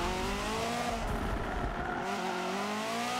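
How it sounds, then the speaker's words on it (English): Tires skid and squeal under a handbrake turn in Forza Motorsport 7, with a race car engine droning as rising and falling tonal squeal lines run over a loud, continuous roar that eases near the end. "I had to hit the handbrake to make sure I was facing sideways"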